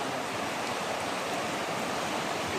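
Strong floodwater flows past a flooded house, a loud, continuous broadband rush that stays steady and unbroken throughout, with no voices over it.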